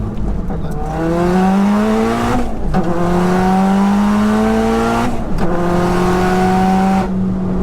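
A 601bhp four-wheel-drive converted Cupra R driven hard, the engine screaming up through the revs in three rising pulls, each cut by a brief gear-change dip, loud and close from inside.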